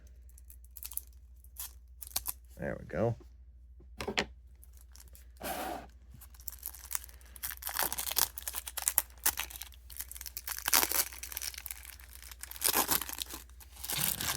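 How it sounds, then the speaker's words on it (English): Scissors snip and slice through crinkly plastic and cardboard packaging of a Magic: The Gathering card deck in irregular bursts, with a short spoken remark partway through. "I'll go ahead and grab my scissors here, and we'll try to cut into this deck."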